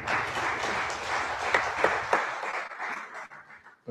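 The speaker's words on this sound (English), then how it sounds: "Give him a round of applause for that." Audience applause for an 82-year-old married man, dense clapping filling the room for about two seconds before thinning into scattered claps and fading near the end.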